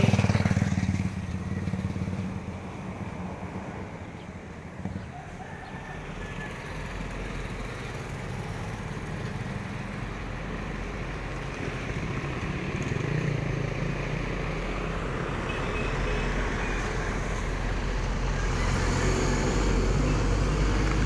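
Traffic passes along a dusty roadside lined with trees: a continuous low rumble of engines and tyres, swelling and fading as vehicles go by at a moderate distance.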